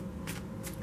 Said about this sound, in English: I'm going to start shuffling the next deck.